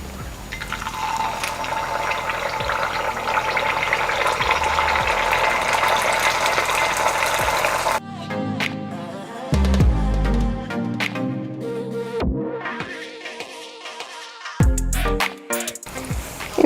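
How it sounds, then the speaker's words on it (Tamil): Paniyaram batter is poured into a hot, oiled paniyaram pan for Chettinad kara kuzhi paniyaram, a steady close sizzle and liquid rush that gives way to scattered clinks, taps and crackles. "சூடானோன்னா நம்மளுடைய மாவை இதில் ஊற்றலாம்"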